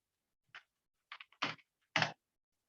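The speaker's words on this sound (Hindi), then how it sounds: "मैं पहले टाइप कर देता हूँ पार्ट 2" Several quick taps on a computer keyboard come in small, irregular clusters with silence between them, close and fairly quiet, with no talking.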